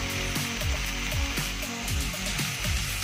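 Spice paste sizzling and frying in a pan for a Bengali banana flower curry (mochar), a steady dense hiss with faint stirring scrapes, close and continuous with no talking.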